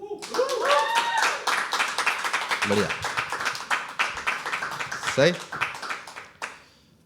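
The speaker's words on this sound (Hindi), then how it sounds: "एक बार ही बजाएंगे ज़ोरदार तालियां" An open mic poetry audience at The Habitat claps in a short, dense burst of hands that tapers off, with a voice speaking briefly over the applause.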